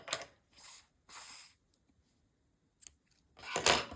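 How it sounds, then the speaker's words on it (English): Scissors snip crochet yarn on a Winnie the Pooh pouch in several crisp, close cuts, with a short pause between snips and a louder final cut. "Now we can cut off the yarn."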